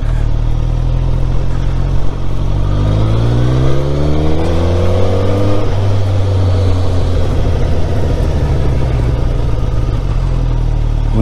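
An S1000RR sport motorcycle engine, loud and close, idling and then revving up in a long rising sweep before settling back to a steady, rough, high-pitched drone.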